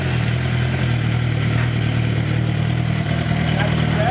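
Motorcycle fitted with a slip-on Moto GP1 exhaust with a large end cap, engine running steady and loud up close with a constant low drone and faint mechanical clatter, no distinct rev rise.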